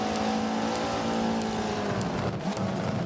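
A McLaren and a Camaro race closely around the Road America circuit in a sports car endurance series, their engines making a loud continuous drone with shifting tones, heard with no voices.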